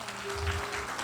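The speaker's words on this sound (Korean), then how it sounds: "우리 하나님께 영광의 박수를 올려드립시다." A church congregation breaks into applause during an evening revival service, a dense, steady wash of clapping that fills the whole moment.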